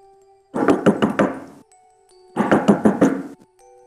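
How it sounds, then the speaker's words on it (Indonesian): Knocking on a door in a horror story: two bursts of rapid, loud knocks, about five raps each, separated by a short pause, set against a quiet low drone. "Terdengar suara ketukan di pintu."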